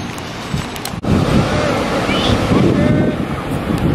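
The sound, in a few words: ocean waves and wind at Myrtle Beach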